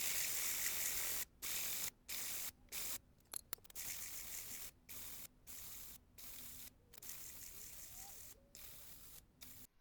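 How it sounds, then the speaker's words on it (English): Sandpaper rubbed in circular motions over the end of a wooden peg to shape a dome, working through finer grits; bursts of soft hissing friction alternate with brief pauses, close by and quiet. "I'm just going to, in a circular motion, start creating the dome, working through the grits"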